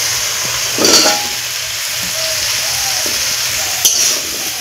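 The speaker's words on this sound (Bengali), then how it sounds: "এখন আমি এই মশলার সঙ্গে খুব ভালো করে একটু নাড়াচাড়া করে মিশিয়ে নেব।" Chunks of pumpkin are being stirred with spices and chilli powder in a frying pan, giving a steady broad sizzle with soft scraping stir strokes and a couple of louder clatters of the utensil, close by and with no talking.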